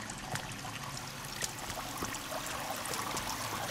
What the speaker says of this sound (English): the sound of the dripping is horrible